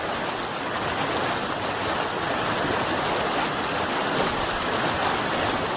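A river in a remote hamlet of Maros, South Sulawesi, rushes steadily as election workers cross it. The water noise is loud, dense and constant throughout, a close broadband wash with no voices.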